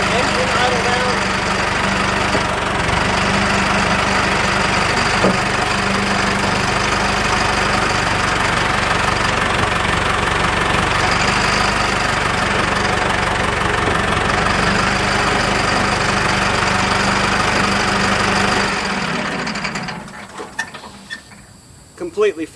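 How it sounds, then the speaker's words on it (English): A Mahindra tractor engine with a converted hydrostatic steering system idles steadily and loudly for about nineteen seconds, then winds down and drops off near the end. "Engine idle down."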